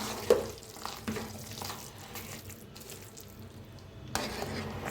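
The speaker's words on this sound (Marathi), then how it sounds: "असं हलवतच शिजवायचं नाही तर खाली लगेच करपतं या" Jaggery and cooked dal for puran being stirred in a pan, with intermittent scraping and sticky wet stirring sounds over a low simmering bubble, close and moderately quiet.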